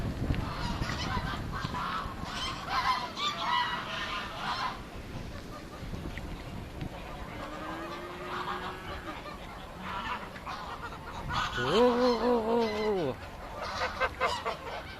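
Domestic geese swimming on water near a village church, honking repeatedly at a moderate distance, with a louder cluster of calls toward the end, over outdoor background noise while people talk now and then.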